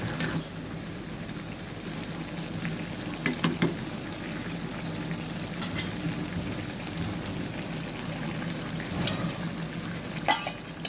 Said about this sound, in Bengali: এখন আবার নাড়াচাড়া দিয়ে দিচ্ছি কিছুক্ষণ পর।